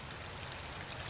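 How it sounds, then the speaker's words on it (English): Rushing waterfall in the video game The Legend of Zelda: Ocarina of Time, a steady broadband wash of falling water, faint and continuous with no voices. "waterfall"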